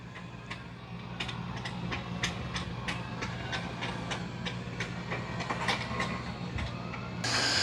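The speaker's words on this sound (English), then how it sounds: "it's going back to wash the mop pads again" An Ecovacs Deebot X9 Pro Omni robot vacuum washes its mop pads in its base station, giving a steady mechanical whir with regular clicking and clattering pulses, close and continuous, with no talk.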